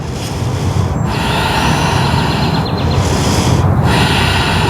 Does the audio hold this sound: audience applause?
no